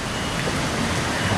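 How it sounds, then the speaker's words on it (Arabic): Steady rain falls near the Curug Cilember waterfall in Indonesia, a dense, even hiss that holds at a constant level throughout the brief moment, with no other sound standing out. "والدنيا قاعد تمطر"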